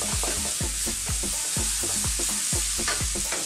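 Food cooks in a pan over high heat, a loud constant sizzle punctuated by quick rhythmic stirring strokes roughly every third of a second.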